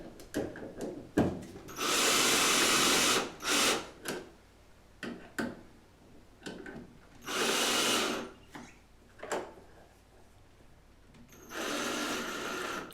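An electric screwdriver tightens a plug socket faceplate in three loud whirring bursts of a few seconds each, close by, with clicks and handling noises between them.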